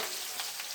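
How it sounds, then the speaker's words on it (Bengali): Fish fries in a pan with a steady, close, hissing sizzle that holds evenly through the short moment, no voices. "এখন রান্নাটা করছি, মাছগুলো ভাজা করছি"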